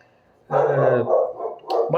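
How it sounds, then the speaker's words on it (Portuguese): A pet dog barks an alert indoors in a run of loud, close barks, with a short pause and then another burst of barking. "meu cachorro tá dando um alerta aí"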